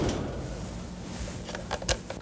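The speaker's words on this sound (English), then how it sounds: "Then close both doors." Both doors of a HOUVA II unit are shut, giving a few soft, quiet clunks and knocks near the end over faint background noise.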